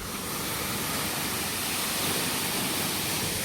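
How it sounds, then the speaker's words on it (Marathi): Water from solar-powered pump motors pours steadily into a farm well, a loud, continuous rushing splash with no pauses and no voices. "खालचं पाणी येऊन पडाले विहिरीत."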